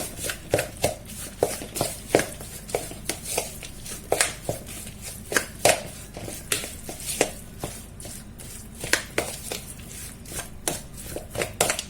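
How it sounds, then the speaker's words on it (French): Tuna, vegetables and oregano are mixed in a bowl, producing a string of close, irregular wet clacks and scrapes with no voices. "On va mélanger tout ça"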